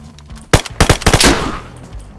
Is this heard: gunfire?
yes